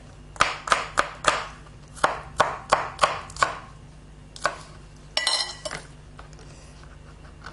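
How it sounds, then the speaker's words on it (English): Knife chopping scallions on a cutting board while preparing a no-cook tofu meal, a quick run of about a dozen crisp, close chops in two bursts, then a few scattered taps and a light clink. "I'm just going to chop up one of these scallions here"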